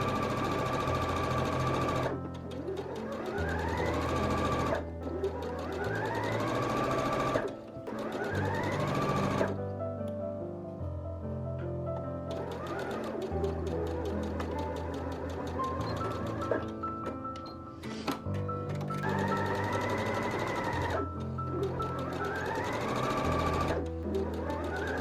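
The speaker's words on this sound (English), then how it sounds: "we are going to sew those together" Sewing machine stitching the curved center front and back crotch seams of checkered pants, running in repeated bursts of steady motor whir and needle rhythm with short pauses between runs, loud and close.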